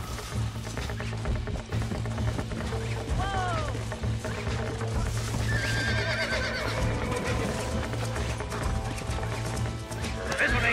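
Horse hooves clip-clop and repeated whinnies in the video game Red Dead Redemption, a struggling, spirited horse snorting and neighing over steady hoofbeats and a low ambient hum, with a voice talking at times.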